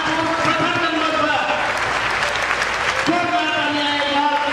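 A crowd applauds at a record-setting cleaning marathon event in Kanpur, with steady clapping under a loud voice addressing the audience.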